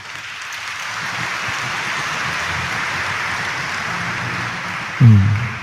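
Audience applause at a Filipino Catholic Mass, a steady wash of many hands clapping that fills the room and continues evenly for several seconds, ending in a brief low thump.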